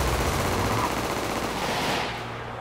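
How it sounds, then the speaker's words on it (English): Gunfire in GTA 5, sustained rapid automatic bursts merging into a dense continuous rattle that eases slightly near the end, loud and without talk. "Is he shooting all those people?"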